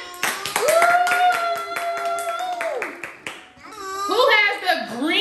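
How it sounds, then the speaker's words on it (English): Children clap along during a play-dough shape-making activity at home, a run of sharp, fairly close hand claps over a sustained voice, followed by young children's babbling chatter. "Can you clap for Justin?"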